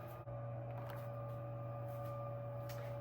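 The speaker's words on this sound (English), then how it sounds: "Sorry for the noise, it's my dishwasher." A five-year-old household dishwasher in need of replacement runs with a steady, droning mechanical hum and faint whirring, constant and fairly quiet throughout with no pauses.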